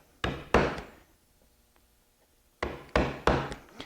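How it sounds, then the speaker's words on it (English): A carving gouge chops waste wood away while a linen-fold panel is carved, giving sharp wooden knocks in two bursts of strikes with a quiet pause between them, each blow ringing briefly. "start and chop away the waste in this area in here, just using a gouge"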